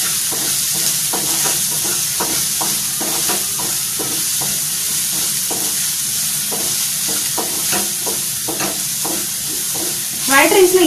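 Chopped onions with a pinch of salt sautéing in a pan for egg fried rice, a steady close sizzle with regular scraping stirs throughout and a brief louder clatter near the end.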